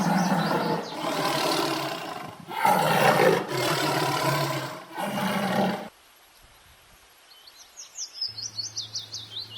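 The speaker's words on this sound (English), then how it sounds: "T for tiger." Tiger roaring in four long, loud, close bursts separated by short gaps, then quiet, followed by high twittering bird calls and a low buzz near the end.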